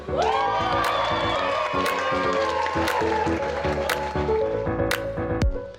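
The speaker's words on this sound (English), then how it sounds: "Can we have a big round of applause for how beautiful my wife looks today?" A wedding crowd cheers for the bride over music with a steady beat, whoops and claps rising above the band and staying lively for several seconds.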